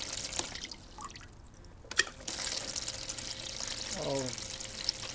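Water flowing from a solar-powered pump, a soft steady trickle and splash running throughout with a few small clicks and drips, close but fairly quiet with no distinct talk.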